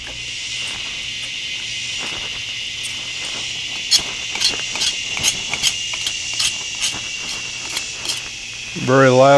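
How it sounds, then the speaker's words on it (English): A very loud locust gives a steady, high, shrill buzz with a scattering of clicks, close to the listener, before a brief rising warble at the end. "Very loud locust."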